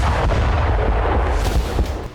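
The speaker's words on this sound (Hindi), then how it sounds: "ईरान के आसमान में अचानक कुछ ड्रोन दिखाई दिए और फिर जोरदार धमाका हो गया।" Heavy explosions at a missile base after a drone strike make a dense, continuous low roar with repeated booming thuds, loud and unbroken, with no voices.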